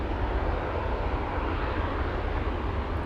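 A DC-3 propeller airliner passes at Anchorage airport on a windy day, a steady, broad engine roar that fills the whole clip with no voices over it.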